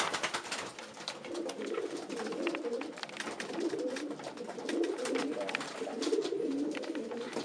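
Long-distance racing pigeons coo softly in a loft, a continuous low murmur of overlapping calls with light fluttering and rustling throughout.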